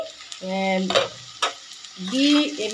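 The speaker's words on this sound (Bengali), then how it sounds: "গাজর, বিট আর আলু, পেঁয়াজ, লঙ্কা দিয়ে ভাজা করছি" Carrots, beetroot, potatoes, onion and chilli fry in a pan, loud close sizzling bursts with stirring scrapes and a couple of sharp utensil knocks, brief and with no talk.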